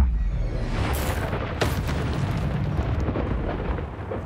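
A Confringo spell explodes in the Hogwarts Legacy video game, a deep rumbling boom with sharp crackling bursts that fill the whole stretch, loud and sustained with no voices.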